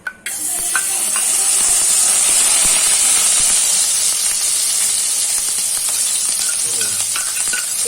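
Hot ghee sizzles loudly and continuously in a pan while chicken masala is cooked, a bright, close hiss starting abruptly and holding steady.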